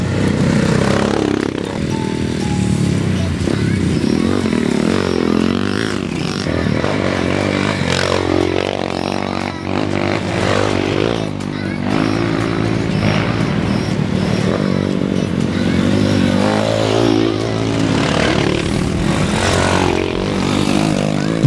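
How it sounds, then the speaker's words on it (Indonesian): Several trail motorbikes rev hard along a hilly pine-forest route, their engines a continuous loud, rising and falling drone with overlapping throttle surges throughout. "para pencinta motor trail ini menggeber motornya dengan semangat."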